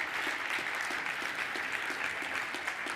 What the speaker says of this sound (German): Die haben sich einen Applaus verdient, finde ich